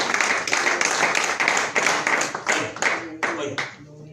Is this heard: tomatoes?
no